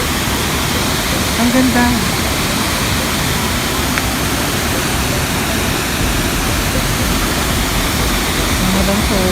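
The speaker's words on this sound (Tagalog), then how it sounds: "Tangadan Falls." Tangadan Falls in San Gabriel, La Union, a steady and loud rush of falling water heard up close. A brief remark from a person cuts through the constant roar.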